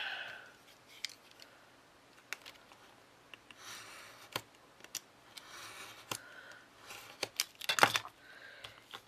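Scissors trimming tissue paper for a mixed media tile: quiet, sparse snips and paper rustles scattered irregularly, with one louder crinkle near the end.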